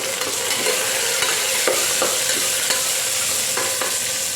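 Mustard seeds, cumin, onion, ginger, green chillies, curry leaves and a pinch of asafoetida sizzle steadily in hot oil for a Ven Pongal tempering, with a continuous frying hiss and scattered small pops and crackles throughout.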